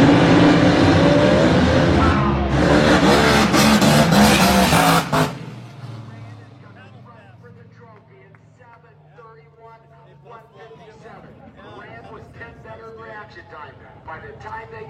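Top Fuel dragsters launch down the drag strip while smoking the tires, a loud, dense engine roar that cuts off abruptly after about five seconds, followed by quieter rumbling and crowd noise.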